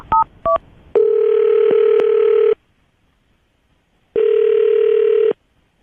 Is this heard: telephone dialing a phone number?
yes